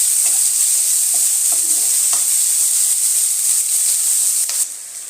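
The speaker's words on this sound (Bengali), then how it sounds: "এবার এগুলোকে একটু ভাজা ভাজা করে নেব।" Ginger, garlic and tomato frying in a kadai for a mushroom dish, a loud continuous sizzle with a few scraping stirs, the hiss dropping off briefly near the end.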